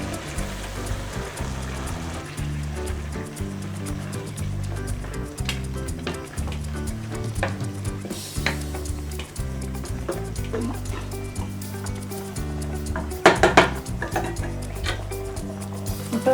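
Ground masala is poured into a pan of sautéed onion, ginger-garlic and vegetables for white kurma, hissing in a continuous close sizzle with a louder splash late on.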